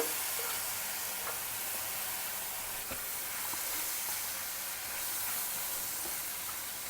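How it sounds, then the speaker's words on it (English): Finely chopped tomatoes stir frying in a pan for an Indian vegetarian meal, giving a soft continuous sizzle and hiss with faint scraping stirs, no talk. "Stir fry everything well together till the tomatoes also become nice and soft."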